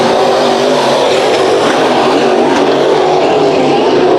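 Sport mod race cars racing at Bakersfield Speedway, a loud, continuous roar of engines at full throttle that holds steady with a rising whine as the cars pass close by, with no voices over it.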